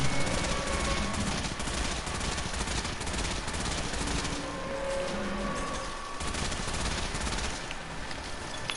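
Continuous rapid primary-weapon gunfire aimed at a boss in Destiny 2, a dense unbroken barrage of shots holding steady and loud throughout, with no talking.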